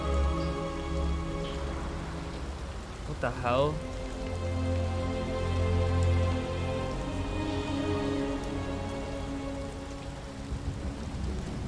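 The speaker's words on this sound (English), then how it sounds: "It almost looks like he can feel the rain now." Steady rain falls in a video game, Detroit Become Human, a constant hiss with low rumbles beneath a game soundtrack, while a player speaks briefly.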